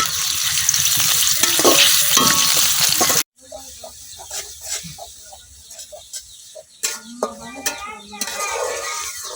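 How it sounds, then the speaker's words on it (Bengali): Halved onions hitting hot oil in a pan, a loud sizzle that cuts off and returns as spattering frying with a stirring spoon scraping and clinking against the pot. "এখন আমি তেলের মধ্যে দিয়ে দিতেছি কাইটের হাফ পেঁয়াজ"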